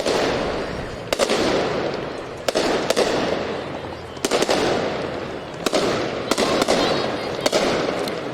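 Fireworks go off during the 2019 Joliet Light Up The Holidays Christmas parade, with sharp cracks and pops bursting at irregular intervals over a constant loud outdoor roar.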